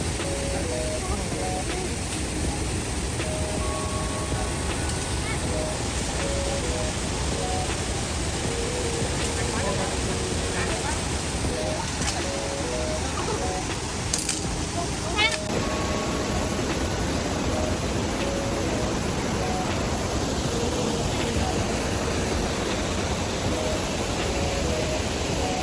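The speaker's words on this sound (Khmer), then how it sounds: "ឥឡូវយើងបានមកដល់ទឹកធ្លាក់ខ្លាំងស្បកខ្មៅហើយ" Thlaem Thmor Khmau waterfall gives a steady, broad roar of rushing, falling water, unbroken and close for the whole stretch, with faint voices now and then beneath it.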